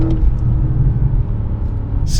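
A 2021 Porsche Panamera GTS engine and exhaust give a steady, loud, deep rumble close by, holding an even drone without a clear rev change.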